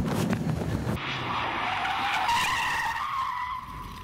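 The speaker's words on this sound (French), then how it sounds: "Tu vas voir, ça freine super fort." A Renault Clio 3 RS with 203 horsepower brakes hard in an emergency stop, tires skidding and squealing in a loud, sustained shriek that bends in pitch and fades as the car halts, close by.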